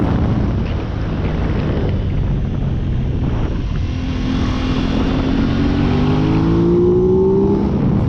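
An Aprilia RS 660 motorcycle with a 660cc engine revs under way on the road, the engine note climbing steadily in pitch as it accelerates beneath heavy, constant wind rush.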